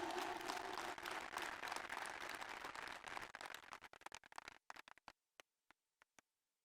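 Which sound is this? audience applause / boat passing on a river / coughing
audience applause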